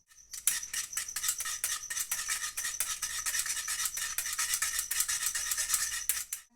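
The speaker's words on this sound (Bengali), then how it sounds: "এবার এই সব কিছু আমি একসঙ্গে মিশিয়ে ভালো করে ফুটিয়ে নেব। আমি এবার খুব ভালো করে ফেটিয়ে নেব।" Lemon cake batter being whisked by hand in a bowl, with quick, even scraping strokes repeating in a steady rhythm, close and clear with no talking.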